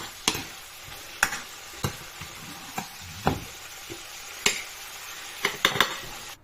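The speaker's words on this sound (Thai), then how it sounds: "ตอนนี้เคี่ยวกะทิแล้วจ้ะ" Coconut milk simmering in a pan for red curry, a soft steady bubbling bed broken by sharp intermittent clinks and scrapes of a spoon against the pan, close and fairly quiet, with no talking.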